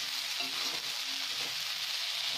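Moong sprouts sauté in a hot pan with a continuous bright sizzle and a few soft stirring scrapes, close and even throughout, with no voices.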